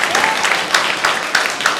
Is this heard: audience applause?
yes